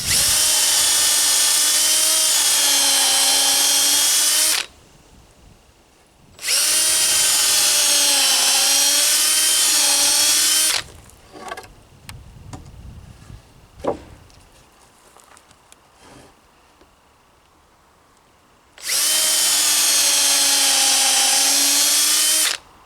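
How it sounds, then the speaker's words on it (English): A power drill whines loudly in three sustained bursts of several seconds each while pre-drilling wood for a chicken pen, with quieter clatter and handling noises in the gaps between. "I want to pre-drill."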